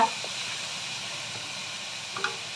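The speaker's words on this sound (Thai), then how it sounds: "แล้วก็ผัดให้ทุกอย่างเข้ากันนะคะ" Fried rice with nham (Thai fermented pork) stir-fried in a pan, giving a steady soft sizzle and hiss throughout, with a couple of light clinks of the spatula near the end.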